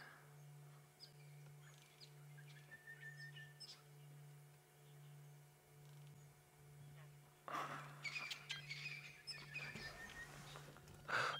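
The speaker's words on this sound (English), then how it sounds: "there's a lot of bird activity throughout this drainage line, and you'll probably pick up on some sounds around us" Birds call along a drainage line at sunset on a drive: faint chirps and short tweets over a steady low hum, growing busier and louder in the last few seconds.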